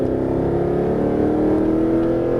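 A Mercedes-Benz SLS AMG accelerating hard on a Las Vegas track, a loud, steady, close engine drone with rising harmonic tone and no voices over it.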